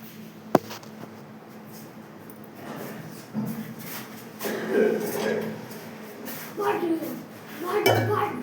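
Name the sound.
dishes and utensils clinking while being carried to the tap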